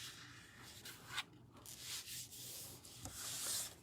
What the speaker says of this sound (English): I'm going to burnish those score lines that we just cut